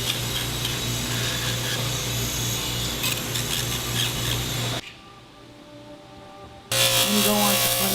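A rotary tool grinds and thins the acrylic of a dental flipper appliance, a steady high whine with a brief drop in pitch and loudness partway through before it resumes, close up.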